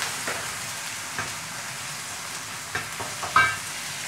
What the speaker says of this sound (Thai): ก็จะใส่ไข่ลงไปนะคะ